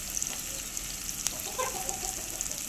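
Onions frying in ghee for a mutton curry, a steady quiet sizzle with soft crackles and faint pops running throughout, no voices.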